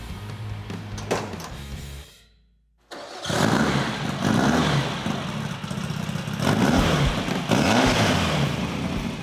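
A Class 11 off-road desert race car engine fires up after a short silence. It catches loudly up close, then settles into a rough, clattering idle with surges of revving.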